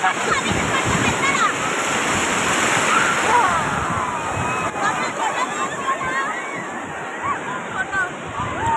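Falling water roars steadily, like a waterfall, while people talk and call out over the constant rushing noise.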